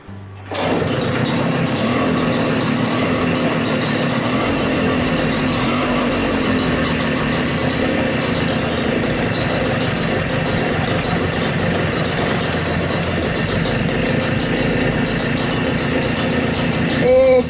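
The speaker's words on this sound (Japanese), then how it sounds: "さあエンジンかかるかな。" A Mobylette moped engine started after a long rest, catching abruptly and then idling with a steady, loud, rattling drone close by for the whole stretch, with a slight rev near the end.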